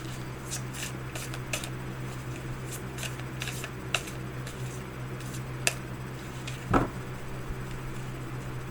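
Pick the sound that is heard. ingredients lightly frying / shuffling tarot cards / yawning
shuffling tarot cards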